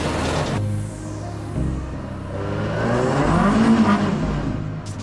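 A car accelerates away down the road on newly fitted and balanced Nankang budget tyres, the engine note rising and swelling loudly through the gears as it drives off, with no talk.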